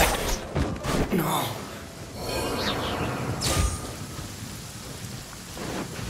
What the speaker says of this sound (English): Wait a downpour. Nothing will get done until it clears.